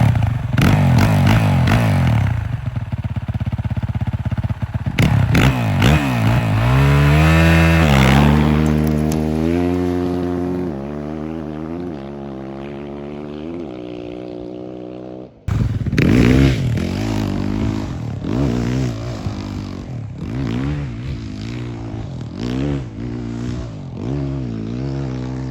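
An enduro motorcycle ridden on forest trails at a state round course, the engine loud and close, revving up and down through gear changes with rising and falling pitch, a brief cut partway, then more throttle bursts.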